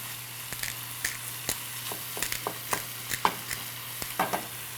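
Sausage frying in a pan with a soft continuous sizzle, broken by frequent sharp taps and scrapes of a utensil stirring at an irregular rhythm, close by and without talk.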